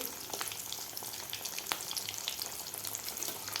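Mini flower-shaped potato samosas deep-fry in oil over medium heat, giving a steady, soft crackling sizzle with scattered pops throughout, no voices.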